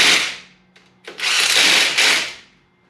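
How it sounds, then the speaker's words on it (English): An impact driver drives bolts through spacers to fit a billet power steering and alternator relocation bracket. It fires in short, loud, close bursts: a brief pull, a stutter, then a longer rattling run that winds down. "So we're going to run these in with the impact."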